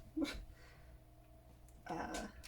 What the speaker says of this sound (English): Sorry, that's my dog, Lily.